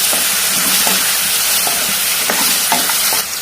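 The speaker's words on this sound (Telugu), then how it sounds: "ఇప్పుడు ఉప్పు వేసింది పసుపు వేసింది కలుపుతుంది" Eggplant, okra and sesame curry being stirred after salt and turmeric go in, a loud steady sizzle with repeated spoon scrapes against the pan, no talking.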